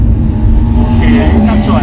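A car engine rises in pitch as it accelerates during a driving lesson, heard from inside the cabin as a steady close hum with a climbing tone.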